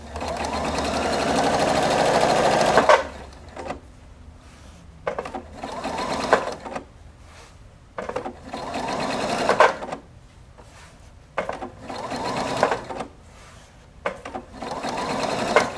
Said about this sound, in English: you can sew right up to the edge and then slip in your next piece of fabric and just start sewing